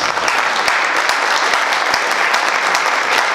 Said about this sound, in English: Let's give our legislators a round of applause.